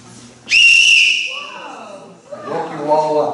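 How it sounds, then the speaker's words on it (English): An emergency whistle blasts once, loud and shrill, lasting about a second before fading, followed by a person talking close by. "A whistle is much easier than be yelling, help, help, and people can hear that much."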